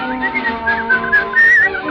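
Melodic whistling of a tune in a 1938 radio drama of Snow White and the Seven Dwarfs, a clear, loud, lilting phrase with bright sustained notes, heard alone.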